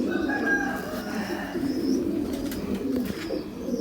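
Highflyer pigeons coo in soft, repeated low calls, with occasional faint chirps and background noise around them.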